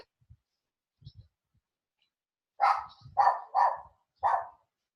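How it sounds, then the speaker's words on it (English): A dog outside a door barks four times in a quick, loud cluster, close by, after a few faint knocks or thuds in an otherwise quiet room. "Can you hear the dog?"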